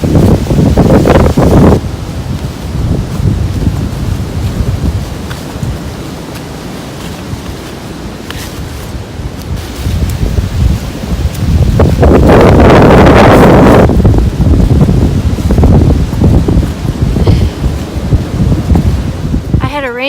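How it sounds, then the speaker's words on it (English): Cold, gusty wind on the Appalachian Trail in Georgia buffets the microphone in loud rushes that swell and fade, with one strong gust near the middle. A voice speaks at times. "It's cold and blustery."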